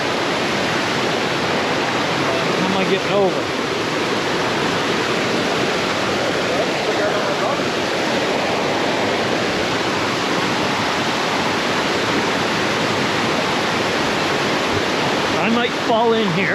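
Heavy waterfall roaring steadily and close, a dense unbroken rush of water that fills the whole scene, with a person speaking briefly over it.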